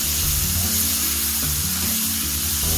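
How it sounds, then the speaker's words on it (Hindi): Onions sauté in a pan with a loud, continuous sizzle and occasional stirring sounds. The hiss stays close and steady throughout, with no talking. "देखिए हमारा प्याज हो गया है, बस इतनी तेज तक हमें इसको भूनना है"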